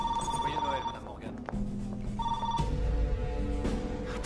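A telephone ringing with repeated electronic rings that stop and restart, heard over a dense background of rumble and other sounds in a French heist thriller film scene.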